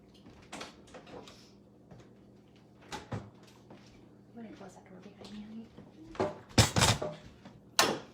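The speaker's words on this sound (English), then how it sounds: "I'm gonna close that door behind me, honey." A home kitchen door is swung shut, giving a few sharp knocks and thuds spread over several seconds, while someone talks nearby.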